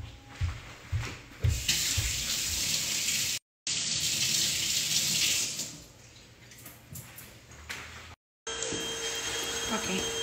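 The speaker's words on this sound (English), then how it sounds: "Let me wash my hand." Water runs from a kitchen tap as hands are washed while banana bread is being made. A fairly loud, continuous rush is heard, with a few knocks at the start and two brief dropouts partway through.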